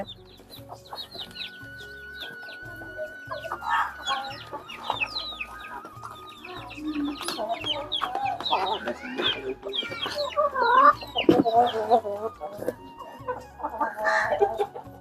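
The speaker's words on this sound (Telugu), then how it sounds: "చూడు ఇవి చూడు ఎంత ఇష్టంగా తింటాయో" Young chickens pecking at pieces of watermelon, soft overlapping clucks and peeps building into louder, busier clucking from a nearby flock, with a rooster faintly heard and no talk.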